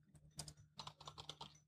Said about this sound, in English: Is this keyboard even working?